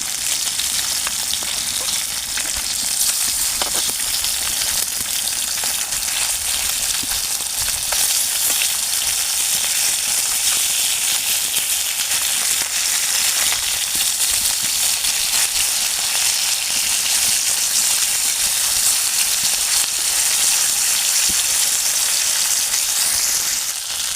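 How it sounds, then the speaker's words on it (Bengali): Steady, loud sizzling of fish frying in hot oil, a continuous crackling hiss that holds without pause throughout, with no voices. "উল্টে দুই সাইড আমি লাল লাল করে মাছটা ভেজে নেব।"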